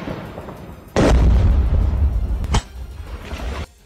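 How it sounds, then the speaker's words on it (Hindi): Combat in the Ukraine war, a grenade blast and rifle fire: one heavy, loud explosion with a sustained rumbling tail, followed by a second sharp burst, then the noise fading away. "उनमें एक सैनिक ने रूसी सैनिकों की तरफ एक ग्रेनेड उछाल दिया।"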